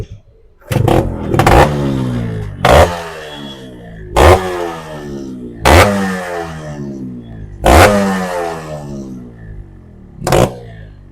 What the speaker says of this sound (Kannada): ಸೌಂಡ್ ಕೇಳೋಣ ಇದು ಗಾಡಿದು